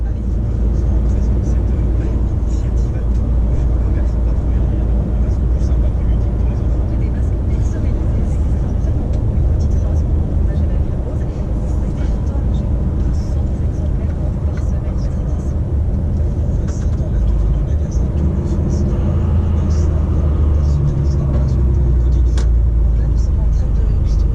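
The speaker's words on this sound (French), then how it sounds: "Il est bruyant le ralentisseur." A DAF XF 530 truck's retarder gives a loud, continuous droning whir inside the cab, sustained throughout with a low rumble beneath, as people talk over it.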